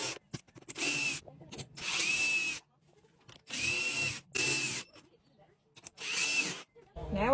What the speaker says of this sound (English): let's go ahead and tighten up these 4 corner bolts